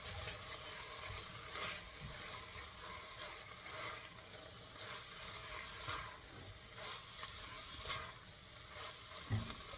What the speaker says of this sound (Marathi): आता या स्टेजला आपण आपले भिजवलेले होल मसूर घालायचे